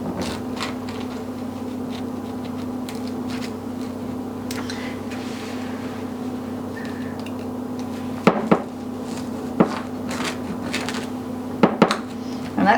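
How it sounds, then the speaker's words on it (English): A plastic knife saws through box-mix brownies with a soft, repeated scraping rhythm over a low background hum, punctuated by a few sharp taps of the knife against the pan. "So this is the plastic knife. It said to use a sawing motion."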